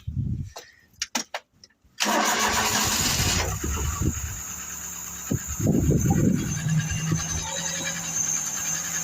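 A Mk3 Ford Cortina Estate engine turns over briefly and fires up, then runs at a slightly uneven idle, with a few small knocks and clatters nearby.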